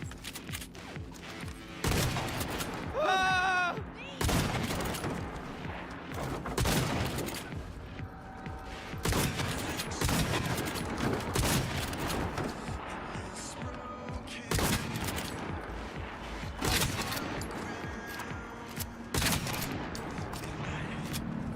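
Shotgun gunfire in a video game, repeated loud blasts spaced a second or two apart over a steady background, with voices talking between shots.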